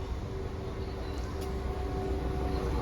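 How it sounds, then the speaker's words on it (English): A West Midlands Railway train rumbles into a small two-platform station in the West Midlands on the Chiltern Main Line, a steady low mechanical drone with a faint high whine, close by and unbroken. "Here comes my train."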